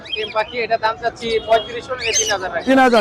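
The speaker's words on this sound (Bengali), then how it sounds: "কোকাটেলের জোড়াটা জোড়া" Cockatiels call from a pair at the Tongi Bazar bird market, with short chirps and whistles mixed into the busy crowd noise while people talk close by.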